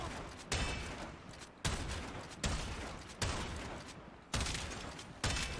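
Vectis sniper rifle firing in the Warframe video game: six sharp, evenly spaced shots, each a hard crack followed by a decaying tail, heard alone and close.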